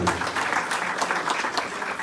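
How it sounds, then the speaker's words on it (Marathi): An audience at an award ceremony claps for the honourees, a dense, even burst of applause from many hands throughout, fairly loud and steady. "आज त्यांचा पुरस्कार होताना ते जे शिकतायत हा संस्कार पिढीचा जो आपण पुढच्या पिढ्यांना देतोय अशा ह्या व्यक्तिमत्वांसाठी आपण जोरदार टाळ्या दिल्या"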